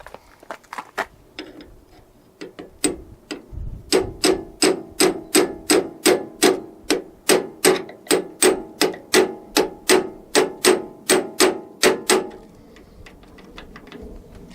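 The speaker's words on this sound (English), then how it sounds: "with a hammer and punch, they want me to flatten this limiter here" Sharp metallic hammer blows on a punch flattening a limiter on a Ram 3500 truck tailgate: a few scattered strikes, then a long, steady run of about twenty evenly spaced, ringing hits before it stops.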